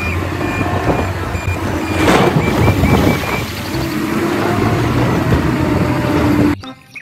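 A toy loader truck emits a repeating electronic reversing beep, a run of short evenly spaced tones over a steady motorized whir and clatter, loud and close, ending abruptly.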